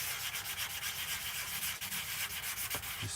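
A wooden bowl is sanded by hand with 180 grit sandpaper: close, continuous rasping strokes in a quick, uneven rhythm, with no voices.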